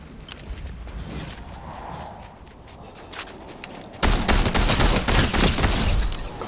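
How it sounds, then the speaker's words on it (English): Video game gunfire in Fortnite: a quieter run of distant shots and scuffling steps, then from about four seconds a loud, dense burst of rapid automatic fire close by, continuing steadily to the end. "I got others shooting in front of me"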